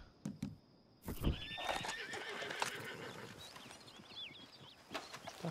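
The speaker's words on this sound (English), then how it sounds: "Oh, there's my horse, okay." A horse in the video game Red Dead Redemption 2 whinnies loudly after a short pause, with clip-clopping hooves and brief neighs continuing at close range.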